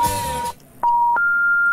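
Loud electronic alarm beeping: sustained pure tones that cut off briefly, resume, then jump to a higher pitch, sounding close and clear with no talk.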